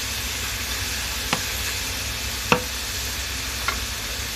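Burdock (gobo) sizzles in a frying pan under steady stirring, with three sharp scrapes or knocks of the utensil against the pan spaced about a second apart over the constant frying hiss.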